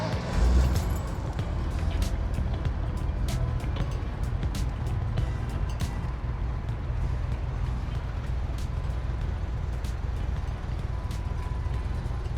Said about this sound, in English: We should probably start it up and listen to the bad boy purr.